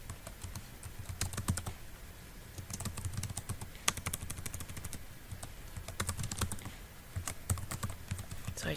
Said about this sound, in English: So I type in her email address.